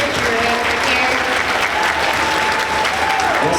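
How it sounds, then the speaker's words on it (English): Crowd applause at an Attack on Titan Q&A panel at Tampa Bay Comic Con, a thick continuous wash of clapping and crowd noise, loud and unbroken, with a faint voice beneath. "can we give a quick round of applause for this amazing interviewer over here?"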